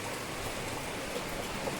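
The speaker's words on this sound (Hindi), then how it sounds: "तो खतरनाक वाली बारिश आ गई" Heavy rain falls over farm fields, heard as a soft, even hiss that stays constant throughout.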